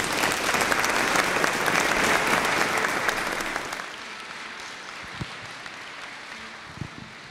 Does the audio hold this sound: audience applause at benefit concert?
yes